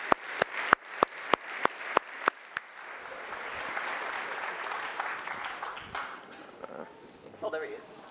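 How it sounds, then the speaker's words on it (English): Conference audience applauding after a panel session, starting with a few loud individual claps that swell into dense, sustained clapping and then taper off as people begin talking nearby. "Let's give a massive round of applause for Matt Hill and his panelists."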